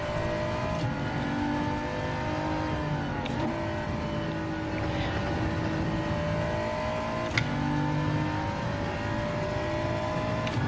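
A race car engine in Gran Turismo 7 during a Manufacturers Cup online race, droning steadily and loud with shifting revs as the throttle is eased on and off, with no talking over it.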